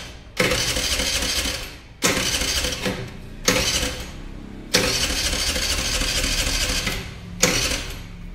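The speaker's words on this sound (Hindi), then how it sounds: "तो ये गाड़ी स्टार्ट नहीं हो रही है।" A TVS Jupiter BS6 scooter with a fuel pump problem cranks repeatedly without starting, five loud electric starter bursts of about one to two seconds each, separated by short pauses.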